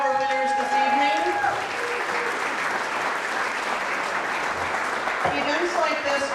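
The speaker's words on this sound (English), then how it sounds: "Big round of applause to all of our nominees and all of our winners this evening." Audience applause at a chamber of commerce awards ceremony, sustained, full clapping at steady volume throughout, with a few tonal music notes sounding faintly under it.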